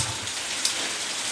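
Heavy rain pours down steadily and loudly outdoors, a dense continuous hiss of drops striking surfaces close by, with one brief sharper splash partway through and no talking.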